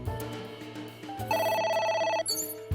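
A telephone rings in the video game AI: The Somnium Files, a loud electronic trilling ring that repeats in bursts over a low musical backdrop, with no talking.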